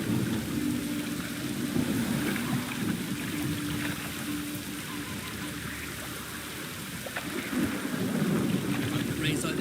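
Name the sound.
rain and thunder in video game The Witcher 3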